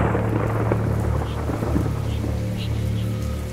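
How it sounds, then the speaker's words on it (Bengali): Thunder rolls as a continuous low, loud rumble under heavy steady rain in a horror story scene, with no voices. "হঠাৎ কয়েকটা বিকট শব্দে বাজ পড়ল।"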